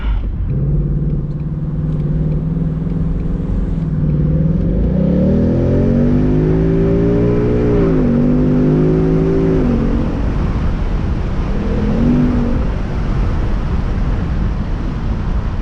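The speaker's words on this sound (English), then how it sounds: "The exhaust gets way louder in this car." A Ford Mustang GT convertible's exhaust roars as the engine revs up through rising pitches, then drops back to a loud, steady rumble, heard close and continuous.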